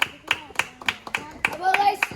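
Children clap in a quick run of separate, sharp hand claps at a steady rhythm, close and fairly loud, with a voice chattering over the last part.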